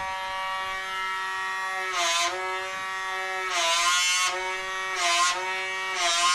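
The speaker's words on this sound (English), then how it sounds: "You can hear the vacuum sucking." A Personal Microderm System handheld vacuum exfoliation device hums with a steady motor whine, broken by several brief louder bursts of hiss as the suction engages against skin, heard close up and alone.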